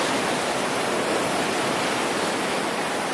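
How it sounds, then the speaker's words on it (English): Ocean surf at a San Diego beach makes a steady, loud, broadband rushing roar with no distinct breaks and no voices. "at this beach, the waves are a little bit different than a lot of San Diego"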